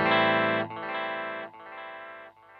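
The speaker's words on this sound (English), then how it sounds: "Third variation is third type is tape delay," Guitar chords run through a Fender Mirror Image Delay pedal set to tape delay, three sustained strums with a smeared, slightly warbling trail between them, loud and alone.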